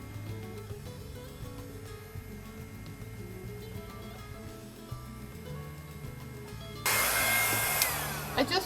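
A hair dryer switches on near the end and blows loudly and steadily across fluid art paint on a canvas, after a stretch of background music.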